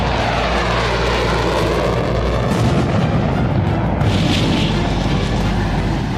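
Dull booming explosions from bombs dropped during steep-angle dive-bombing practice by Israeli Air Force jets, heavy rumbling blasts blended with roaring aircraft engine noise, loud and continuous throughout.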